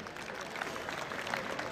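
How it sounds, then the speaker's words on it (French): Audience applause at a student debate final on youth employment, a steady wash of clapping heard at moderate distance throughout, with no talk over it. "Mesdames et messieurs, sous vos applaudissements, Monsieur Souleymane Fall Koulibaly."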